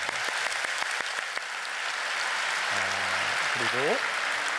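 A church congregation claps in a steady, dense wash of applause for the choir and orchestra, while a voice, the pastor, speaks briefly near the end.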